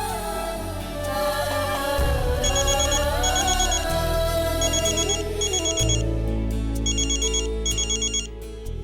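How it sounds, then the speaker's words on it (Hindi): A telephone rings in a Hindi television drama scene: an electronic ringtone sounds in repeated short bursts of bright tones over ongoing background music, with no speech. "मिसेस दीक्षित का फोन आ रहा है, हमें जाना चाहिए।"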